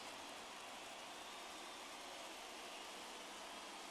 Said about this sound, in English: Rain coming down here at San Francisco's China Basin